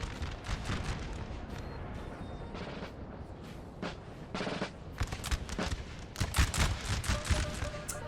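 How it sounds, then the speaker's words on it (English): Cannon fire and musketry crackle throughout a Napoleonic Total War 3 battle, with Austrian artillery loosing canister shot amid repeated sharp bursts that swell louder toward the end over a dense battlefield din. "This artillery for Austria is actually going to probably get some good canister shot off."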